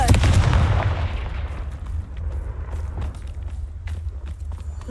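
A fiery Confringo spell blast in Hogwarts Legacy bursts loudly at the start and rumbles away, followed by quieter scattered footsteps and small game sounds.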